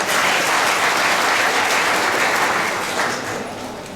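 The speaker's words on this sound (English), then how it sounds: "a huge round of applause for Sir" At a national auto tech fest in Kolkata, an audience breaks into full, continuous applause for a performer, a thick wash of clapping that stays strong before gradually fading.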